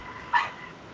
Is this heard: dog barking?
yes